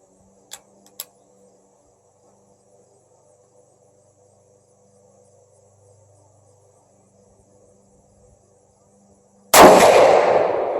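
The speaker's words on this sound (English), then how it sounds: "Ruger M77 Gunsite Scout in 450 Bushmaster, unsuppressed." A Ruger M77 Gunsite Scout rifle in .450 Bushmaster fires one unsuppressed shot, a single loud, sharp blast with a long rolling decay, after near silence broken only by a couple of faint clicks.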